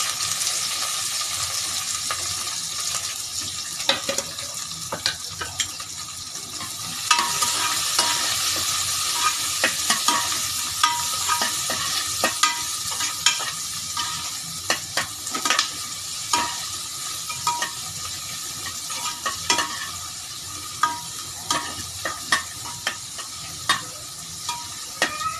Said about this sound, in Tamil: வெங்காயத்தை நல்லா வதக்கிக்கணுங்க. கோல்டன் ப்ரௌன் ஆகிற அளவுக்கு வதக்கிக்கணும்